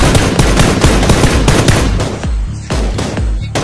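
Gunfire from PUBG: rapid automatic bursts close and loud, with a dense rattle that later breaks into distinct heavy single shots spaced roughly a third of a second apart.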